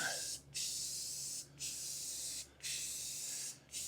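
Aerosol paint sprayed in a light coat on the back of an RV bench seat, four steady hissing bursts of about a second each, separated by brief pauses, close and fairly loud with no talk.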